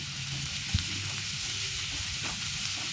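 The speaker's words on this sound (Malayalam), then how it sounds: "അരിഞ്ഞു വെച്ചിരിക്കുന്ന സവാള, കറിവേപ്പില, വെളുത്തുള്ളി, പച്ചമുളക്, ഉപ്പ് എന്നിവ ചേർത്ത് നന്നായി വഴറ്റുക" Chopped onion, curry leaves, garlic and green chilli sauté with salt in hot oil, a constant crackling sizzle with an occasional stir or scrape of the pan, moderately loud and free of speech.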